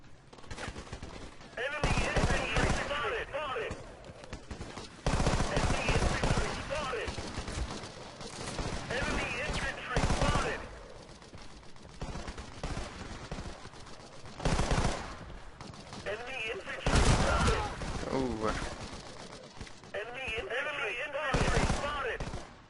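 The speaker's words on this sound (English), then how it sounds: "So as you can see, it's a burst fire weapon." Burst-fire weapon in a first-person shooter game, short clusters of rapid gunshots repeating in several separated bursts with pauses between, fairly close and sharp, with occasional voice talking in between.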